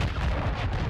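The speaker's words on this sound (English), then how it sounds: "Hostile cruise missile incoming" A cruise missile strike in a ranked online shooter match lands as a short, deep, rumbling blast, heavy in the low end and filling the whole moment.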